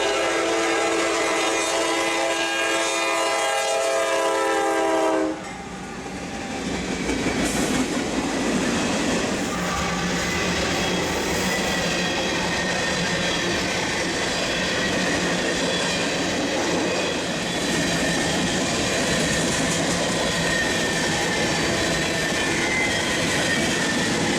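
A CSX freight train on a railroad sounds a loud, sustained horn blast, then passes close by with a steady heavy rumble and rolling clatter of rail cars that carries on to the end.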